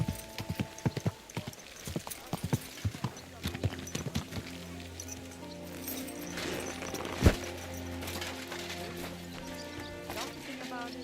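Horse hooves clip-clop in a steady trotting rhythm through the first half of Kingdom Come: Deliverance 2, fading under game ambience as voices talk; a brief whinny-like sound cuts in near the end.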